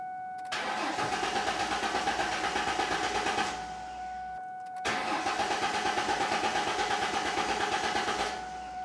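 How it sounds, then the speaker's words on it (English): A 1994-2004 Ford Mustang engine cranks and catches twice in a row, each time settling into a steady, loud, close idle for a few seconds before cutting off, with no speech. "I'm going to hop into the vehicle, turn the key, and I want to start it."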